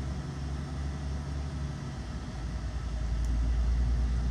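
A Volkswagen Meteor 29.520 6x4 truck drives along with a deep, steady engine rumble heard from inside, swelling slightly louder toward the end with no talk over it.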